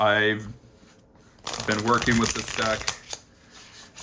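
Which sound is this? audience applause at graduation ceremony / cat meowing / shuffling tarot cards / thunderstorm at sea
shuffling tarot cards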